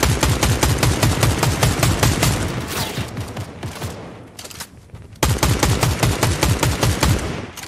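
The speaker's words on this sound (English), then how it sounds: "Just start shooting at it." Rapid gunfire in Fortnite, loud close bursts of fast repeated shots, a pause with scattered single shots, then another sustained rattling burst, with no voices.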